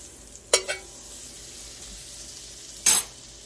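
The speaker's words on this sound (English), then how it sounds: "The pan's hot. I'll throw a little bit of butter into the pan." Butter hits a hot frying pan with a sharp hiss, then a second brief sizzle follows a couple of seconds later, close and moderately loud against a quiet kitchen background.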